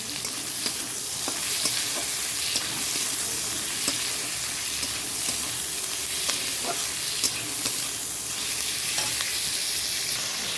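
Onion frying in oil with boiled potatoes and peas, dried red chilli and cumin, giving a steady, close sizzle with scattered crackles and stirring scrapes throughout, no talking.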